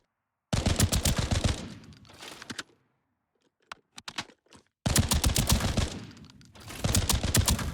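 Rapid automatic gunfire from a rifle in Arena Breakout Infinite rattles in long, loud, close bursts, broken by a few separate single shots during a pause before the sustained fire resumes.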